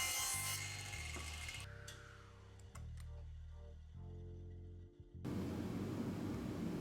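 A power saw rips a length of 2x4 pine lumber, a loud, steady whine with humming overtones that shifts pitch as the cut proceeds, then gives way to noisy rushing.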